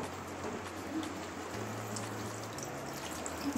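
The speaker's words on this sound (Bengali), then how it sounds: "এবারে জল দিয়ে দেবো।" Water poured into a pan of mushroom and potato curry, a soft continuous trickle and patter over a low steady hum from the stove, faint and close with no talking.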